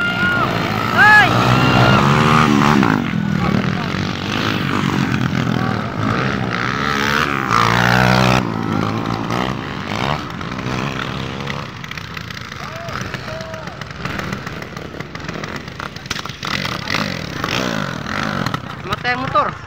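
Motorcycle engine running loudly for the whole stretch, a steady droning roar with shifting pitch, while people talk over it before the engine dies from running out of fuel.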